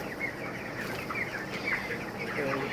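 Chickens cluck and chatter in a poultry shed, a steady dense flock sound with overlapping calls throughout and faint background activity.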